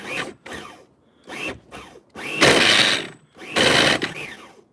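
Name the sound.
Novarossi nitro engine test start on Ofna Jammin RC car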